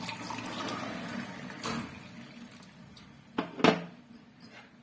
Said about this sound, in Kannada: ಇವಾಗ ಗ್ಲಾಸ್ಗೆ ಹಾಕೋತಾ ಇದ್ದೀನಿ